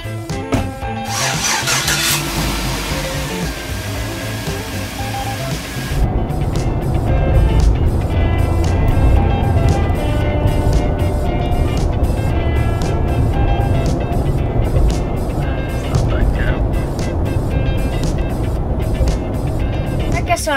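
A monster truck engine runs steadily and loudly throughout, with a brief rise as it revs or starts early on, then a constant rumbling drone with rattling.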